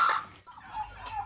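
Desi chickens cluck and call close by in a short, busy burst, a couple of bright squawks standing out over a low rural hum.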